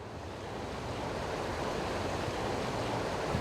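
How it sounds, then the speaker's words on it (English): Rushing floodwater surges through a channel at a water park, a steady broadband roar of churning water that holds constant and loud throughout, with no voices over it. "Floodwater in channels can reach speeds of up to 30 miles an hour."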